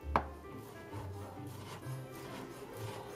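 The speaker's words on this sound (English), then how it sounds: "So you just want to cut into strips." A knife slices a thin, flat egg omelet into strips on a cutting board, giving a sharp first cut and then soft, quiet repeated strokes close by, without talk.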